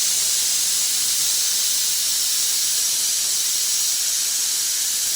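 A pressure cooker cooking salted tapioca lets off a loud, steady hiss of escaping steam, one unbroken blast throughout with no voices.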